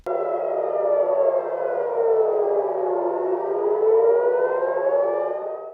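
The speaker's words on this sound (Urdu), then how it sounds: "ادھر اسرائیل میں ایرانی حملوں کے بعد خطرے کے سائرن بج اٹھے" Air raid warning sirens in Israel wail during Iranian attacks, a loud, steady civil defense tone that slowly falls and rises again, alone with no voices.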